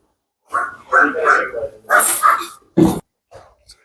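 Dogs at a large village dog farm bark in several loud, close bursts separated by short pauses, with voices mixed in.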